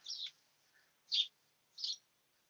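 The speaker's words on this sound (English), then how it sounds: "You hear those birds? That's like so relaxing." Birds in a garden give three short, high chirps spaced about a second apart, faint and clear against near silence.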